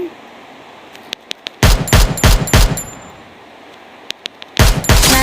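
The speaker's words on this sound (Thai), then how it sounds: "รู้สึกว่ามีคนยิงมา" Video game gunfire comes as sharp, loud bursts of rapid shots in two clusters, with a few single pops and metallic clinks between them and no clear speech.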